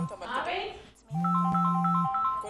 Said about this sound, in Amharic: ስልክሽ እየጮኸ ነው።